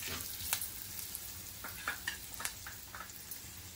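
Spices and salt frying in oil in a pan on low heat, a soft steady sizzle with quick scraping stirs and light taps of the spoon, faint and close.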